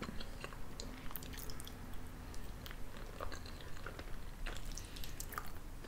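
Someone eating food during a mukbang chews close to the microphone, making faint, soft, wet smacks and small crunchy bites over a low steady background, without talk.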